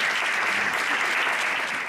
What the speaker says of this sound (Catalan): Un aplaudiment per Josep